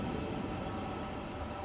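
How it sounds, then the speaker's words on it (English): Airbus A350-900 engine number 2 spinning up in Microsoft Flight Simulator 2020, a steady, even broadband roar and whine with no break, moderately loud and alone. "Start engine number 2."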